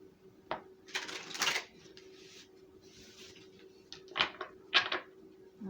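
Tarot cards shuffled by hand in a quiet room: a few soft riffling and slapping bursts spread unevenly, faint and close, over a low steady hum with no talking.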